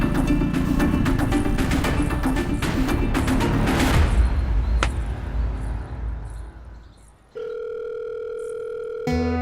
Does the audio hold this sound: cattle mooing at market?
no